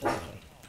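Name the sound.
dog barking in a Minecraft adventure map, video game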